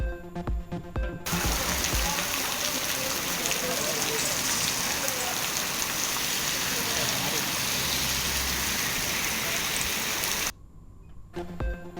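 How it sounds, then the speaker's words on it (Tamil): Steady, dense rain pours across Tamil Nadu as a constant hiss of drops on surfaces, loud and even throughout, with brief quieter moments at the start and end. "தமிழ்நாட்டின் பல்வேறு பகுதிகளில் பரவலாக மழை"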